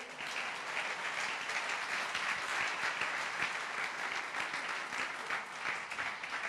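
Worshippers in a Nova Vida church in Catete give a round of applause to the Lord, dense even clapping filling the room for several seconds, somewhat distant and moderately quiet.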